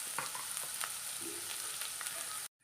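Onions sautéing in a pan with ginger and curry leaves give a low, steady frying sizzle with light scrapes of stirring, fairly quiet and close, ending abruptly in silence; no one speaks.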